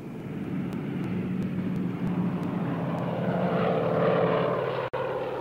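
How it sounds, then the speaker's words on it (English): Propeller airplane engine droning steadily in flight just after takeoff, a loud, continuous rumble and hum heard close and alone, with no talk. "we got into the airplane and took off."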